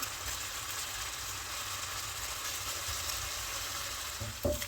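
Meat sizzles and fries steadily in a pan, a continuous hiss with small crackles, fairly close, ending with a brief clatter of stirring.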